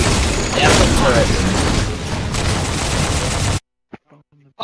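Heavy gunfire and booming impacts from turrets in the video game Metal Gear Online, a dense, loud roar for several seconds that cuts off abruptly into near silence with a few faint sounds.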